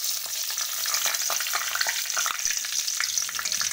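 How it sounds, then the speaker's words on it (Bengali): Bay leaf, dried red chilli and whole cumin tempering in hot oil, a dense close crackle and sizzle with tiny popping spatters throughout, steady and fairly loud with no talking. "গরম হয়ে এই তেজপাতা, শুকনো লঙ্কা আর হচ্ছে গোটা জিরে ফোড়ন দিয়ে দেব।"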